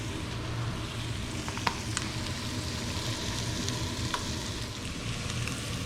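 Onions and peppers sizzle and fry in oil in a pan, reducing toward caramelized. Steady crackling spits continue throughout with a few sharper pops, and nobody speaks.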